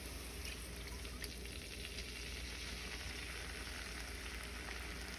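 Tangerine juice hits a hot frying pan with chicken and a sauce base, making a steady, close, continuous sizzle and crackle that holds evenly throughout with no voices.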